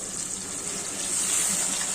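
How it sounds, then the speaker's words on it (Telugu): A steady close pour of water used to boil ivy gourd gushes into a mixer jar for about two seconds, a continuous watery rush that swells slightly toward the end. "మిక్సీలో ఉండేది దొండకాయ ఉడికించిన వాటర్ వేసి కలిపిస్తానండి"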